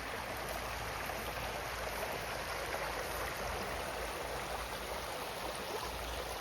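A creek flows below a steep bank, a steady, even rush of running water that stays constant throughout, with no voices.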